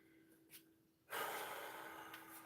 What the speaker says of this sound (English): so you hear me breathing